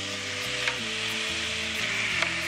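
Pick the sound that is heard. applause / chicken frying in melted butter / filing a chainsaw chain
chicken frying in melted butter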